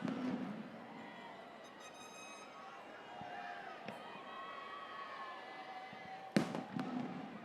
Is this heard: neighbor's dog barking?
no